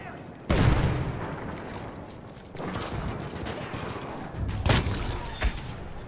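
Model 10A Hunter shotgun fired in Battlefield 1, with a few loud, heavy blasts spaced a couple of seconds apart over constant battlefield noise and distant gunfire.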